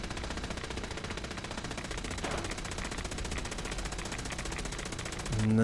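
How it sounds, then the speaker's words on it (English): Automated turret in Fallout 4 firing rapid continuous bursts, a dense rattling stream of gunfire that stays steady and fairly loud throughout, with a louder thump at the very end. "Oh, the turret noise is back though."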